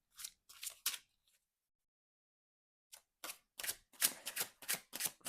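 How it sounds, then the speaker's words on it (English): A deck of oracle cards shuffled by hand, heard as a few quick papery riffling bursts, a silent pause of about two seconds, then a longer run of crisp, close shuffling flurries with no voices. "Let me shuffle for one of my cards"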